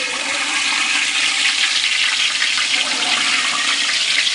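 A whole turkey sits in hot frying oil, giving a loud, continuous, close hiss of bubbling and sizzling with no pauses.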